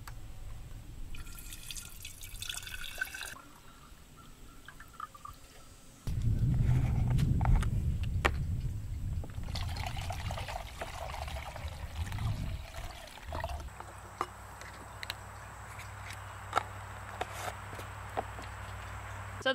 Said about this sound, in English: So the water filters from the bag, this is a 1 gallon bag, down through the tube.